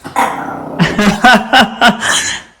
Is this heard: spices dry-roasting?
no